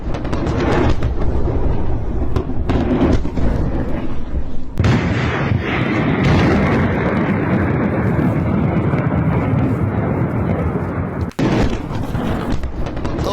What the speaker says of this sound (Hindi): धमाके की आवाज भी लगातार वहां से सुनाई दे रही है